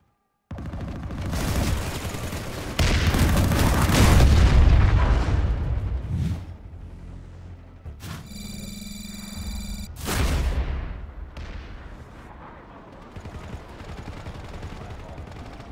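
Gunfire and explosions fill a battle in the video game PlanetSide, with loud, dense bursts of shots and booms, a brief electronic tone in a lull, then another heavy volley.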